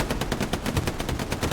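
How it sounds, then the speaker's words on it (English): Sustained machine gun fire in a multiplayer scrim match on the Foy map, rapid evenly spaced bursts of shots, loud and dense throughout with no voices. "MG fire coming in from Big L"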